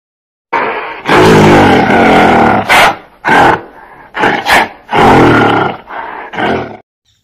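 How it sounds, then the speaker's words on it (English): Deep, harsh roaring from a gorilla at a zoo, loud and close, in a series of long bellowing bursts and shorter grunting blasts with brief gaps between them. "Gorilla."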